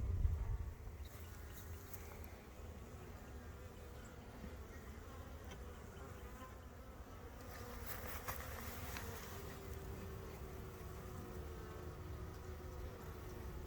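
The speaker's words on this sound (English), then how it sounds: "Nurse bees couldn't care less, and that's mostly what we have here." Honey bees, mostly nurse bees, hum steadily inside a hive while nucs are moved into deeps, a dense continuous buzz at low level with no voices.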